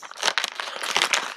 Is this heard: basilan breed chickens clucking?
no